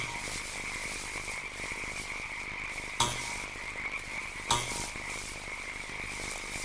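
A toad croaks in a steady, continuous chorus, with a strong tonal band held throughout and two brief louder bursts partway through; no one speaks.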